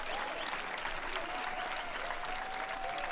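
An outdoor crowd at a community sing in a small park claps and cheers for the bands in a dense, continuous wash of applause with some whistling on top.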